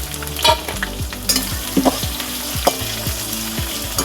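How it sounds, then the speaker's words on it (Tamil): Onions sizzle steadily in hot oil with mustard seeds, cumin and curry leaves, with a few sharp pops and scraping stirs of a spoon against the pan. "வெங்காயம் போடுறேன்."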